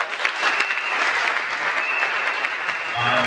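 A church congregation at a Sunday service clapping, a dense, sustained round of applause that stays even and fairly loud throughout the whole stretch.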